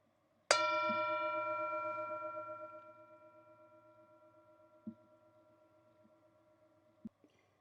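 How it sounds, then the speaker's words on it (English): A single mindfulness bell is struck once, ringing out clearly with a long, slowly fading tone in a quiet space, with faint knocks afterward. "Enjoy the sound of the bell."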